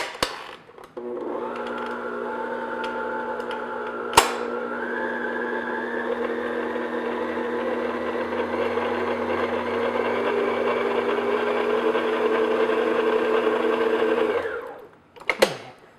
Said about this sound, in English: You just want to mix it only long enough so everything is mixed in.